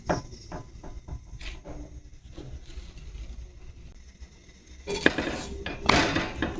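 Roti being cooked on a hot metal tawa griddle over a gas flame in a village home kitchen, with scattered clinks and taps of metal on metal, building to louder scraping and clattering bursts near the end; no voices.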